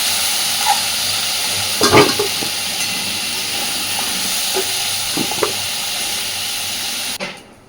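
Potatoes and cauliflower fry in oil with a steady, close hissing sizzle, broken by a few utensil clanks and stirring sounds before stopping abruptly.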